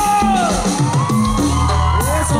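A party crowd at a quinceañera celebration in Rancho Viejo, Guerrero, bursts into loud close shouts, whoops and yells, with overlapping voices rising and falling over a busy, lively background.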